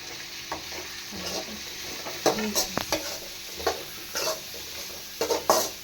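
Shredded cabbage sautés in a pan and is stirred again and again, giving a steady sizzle broken by repeated close scrapes and clinks of the spoon against the pan.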